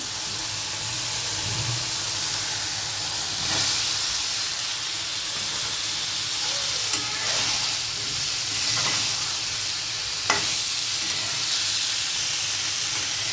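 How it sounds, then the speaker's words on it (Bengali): Steady hiss and sizzle of boiled potatoes frying in spice paste in a hot pan, continuous throughout with a few faint stirring clicks. "আলুটা এই মশলার সাথে বেশ ভালোভাবে একটু ভাজা ভাজা করে নেবো"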